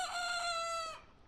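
A single crow from a small white rooster, a clear harmonic call lasting about a second, fairly close and alone.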